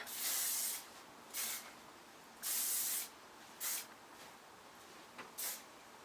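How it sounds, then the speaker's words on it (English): Short bursts of Tresemme Extra Hold Salon Finish hairspray from an aerosol can, five hissing sprays of varying length, the longer ones near a second each, close by with quiet pauses between. "we can add some hairspray, and I'm just going to be using the Tresemme Extra Hold Salon Finish"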